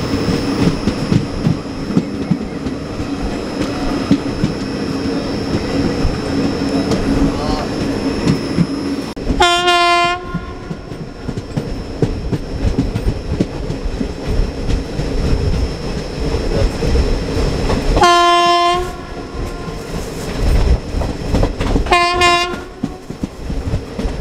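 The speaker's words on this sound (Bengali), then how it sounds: "মুর্শিদাবাদ স্টেশন ছেড়ে বেরোচ্ছে ভাগীরথী এক্সপ্রেস।" Bhagirathi Express leaving Murshidabad station: a loud, continuous rumble of rolling wheels and carriages with three long blasts of the train horn, close and dominant throughout.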